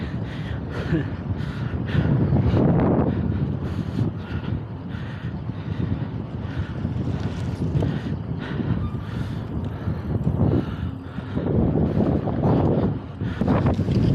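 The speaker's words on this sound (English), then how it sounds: "it's so windy" Strong spring wind buffets the microphone on a bike ride at Minnehaha Falls in loud, rumbling gusts that swell and ease throughout, with faint voices underneath.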